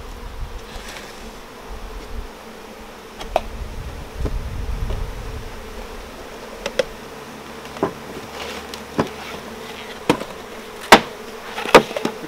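A low bee buzz hums along with scattered sharp clicks and taps around a small hive box; no one speaks.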